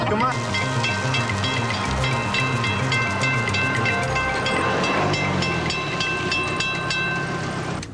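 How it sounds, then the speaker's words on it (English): Train passing close by, a loud continuous rumble with rhythmic clickety-clack and hissing layered over steady tones, sustained at full strength for the whole stretch. "Oh, we can't wait for a train."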